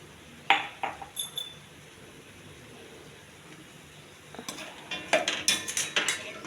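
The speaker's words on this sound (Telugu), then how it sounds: "బాగా కలిపి మూత పెట్టేయాలండి." Spiced brinjal curry seasoned with salt, chilli, turmeric and garam masala is stirred in a pot, a ladle clinking against metal in scattered scrapes and taps, louder bursts near the end, with no talk.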